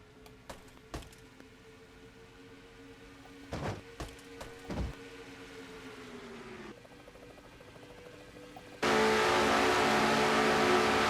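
Race cars in an auto racing video game, engines droning and shifting with a few sharp thumps, ending in a sudden loud rush of engine noise.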